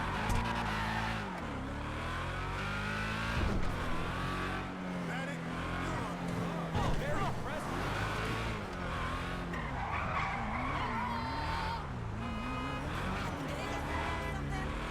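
Car in a GTA video game skidding and driving with tire squeals and engine noise, continuous and loud, with people talking over it throughout.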